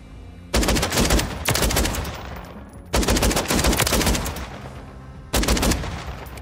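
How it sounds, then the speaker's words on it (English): A shotgun-style AR fires in Warzone on a practice range with dummies: four loud, close bursts of rapid automatic gunfire, each roughly a second long, separated by short pauses with a steady background hum. "This is a shotgun from range"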